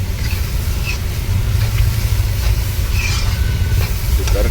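Beetroot sizzles in a pan while being stirred, a steady loud hiss with scraping stir sounds over a low rumble, and no talking.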